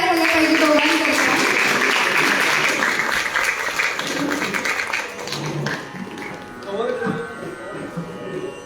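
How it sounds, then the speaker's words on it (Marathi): Audience applause at a music stage show: dense, loud clapping that fills the opening seconds, then gradually thins and fades toward the end. "एकदा जोरदार टाळ्या झाल्या पाहिजे दोघांकरता"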